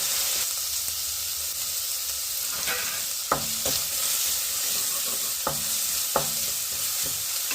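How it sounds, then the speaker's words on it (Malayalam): Ginger and chopped vegetables for a vegetable momo filling sautéing in a hot pan, a steady close sizzle with scattered sharp clicks of a spoon stirring and scraping, no talking. "ഇഞ്ചിയും ഈ പച്ച മണം ഒന്ന് മാറിയതിന് ശേഷം നമുക്ക് ഇതിലേക്ക് ഇടുന്നു."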